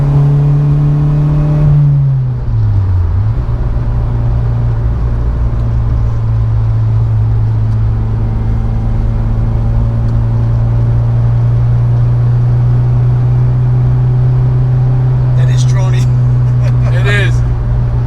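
Steady low engine and exhaust drone from an Acura RSX fitted with a race downpipe while driving, a constant hum with a brief dip and pitch shift early on, then a long even tone.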